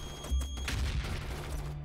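A grenade explodes in the video game Starship Troopers: Terran Command, a short thumping blast with crackling gunfire around it, heard at moderate volume with no talking.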